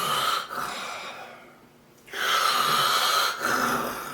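A man imitates snoring to demonstrate partial airway obstruction, giving two long, raspy, rattling breaths separated by a quiet pause, close and fairly clear.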